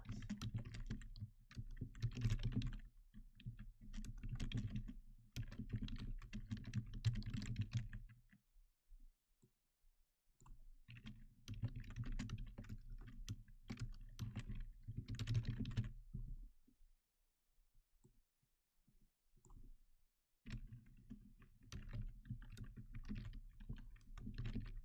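Close computer keyboard typing in dense rapid bursts, with several pauses of silence between runs of clattering keystrokes.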